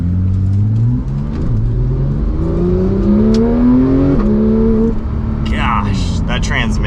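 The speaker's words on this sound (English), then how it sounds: "you can just tell there's so much to give with the engine. It just wants to scream." A 991.2 Porsche 911 GT3's rear-mounted engine accelerates hard from inside the car, its pitch climbing through several gears with quick dips at each shift. A voice talks over the rising wail near the end.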